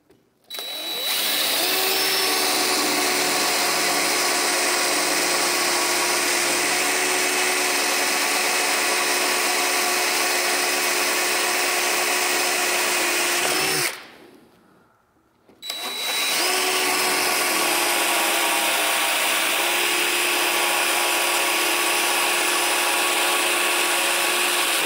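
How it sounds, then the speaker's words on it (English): A power drill bores 3/16-inch holes into a zero turn mower's deck as a dethatcher is fitted, running as a loud, steady whine for long stretches with one short pause between two holes. "now we're gonna go ahead and get our holes drilled in the mower"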